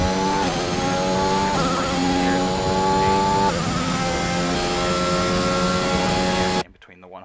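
Race car engine in F1 2021 on the Austria track, revving loudly and climbing in pitch with quick upshifts marked by brief drops, steady and close until it cuts out near the end.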